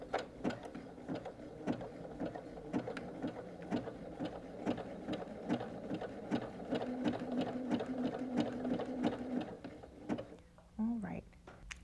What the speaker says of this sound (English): I can lower my presser foot, and I'm ready to start sewing